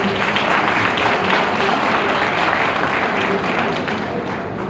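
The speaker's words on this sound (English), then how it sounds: "Please give them a huge round of applause." Audience applause at an Engineers Day celebration held at a university in Punjab, a dense, sustained roar of many hands clapping at steady volume that fades slightly toward the end.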